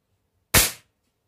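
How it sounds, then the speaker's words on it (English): Single sharp shot from a BSA Lightning XL SE air rifle just after a rebuild of its cocking linkage, a loud close crack with a short decay in otherwise quiet surroundings. "So this is the first shot after the rebuild."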